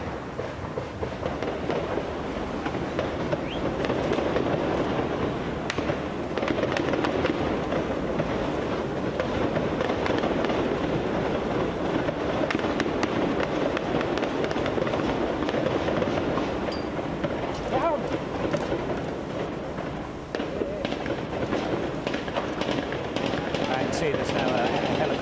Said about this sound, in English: this is quite heavy firing, and some of these rounds are coming across the position that we're in